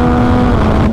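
Engine revving at high RPM above 8,000, a loud steady close whine with a strong constant pitch throughout the short moment.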